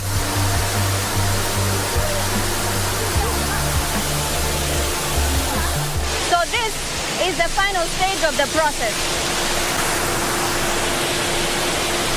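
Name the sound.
water falling in a power plant cooling tower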